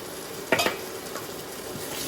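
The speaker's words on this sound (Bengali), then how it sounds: "মশলাটাকে একদম ভালোভাবে একটু কষিয়ে নিতে হবে।" Ginger and coriander powder spice paste is stir-fried in a pan for chicken roast. A short burst of scraping and sizzle fades into a faint, steady background hiss.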